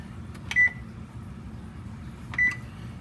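Two short electronic beeps from an oven control panel as the temperature is set, about two seconds apart over a low steady hum, each bright and close with a clear tonal ring.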